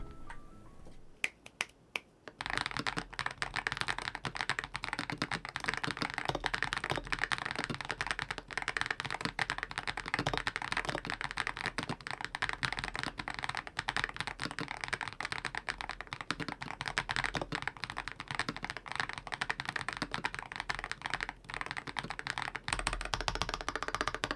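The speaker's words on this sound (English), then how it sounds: "here's a whole sound test with the switches and the keycaps on" Rapid, steady typing on a GravaStar Mercury V60 Pro magnetic keyboard with its switches and keycaps fitted: dense, crisp clacks close up that run on for over twenty seconds without pause after a brief start.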